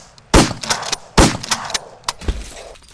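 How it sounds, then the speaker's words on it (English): Gunshots in a comedic scene that leaves two people dead, heard as about three sharp, loud cracks spaced across a few seconds with short decaying tails. "And then, suddenly, Susie and Officer Blake drop dead from gunshot wounds."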